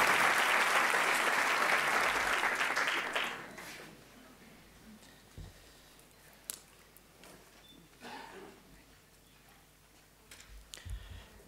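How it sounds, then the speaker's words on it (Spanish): Audience applause for a guest speaker at a graduation ceremony, a dense burst of clapping lasting about three seconds before breaking off. A few scattered sounds follow in a quiet room. "Os pido un aplauso para él antes de sus palabras."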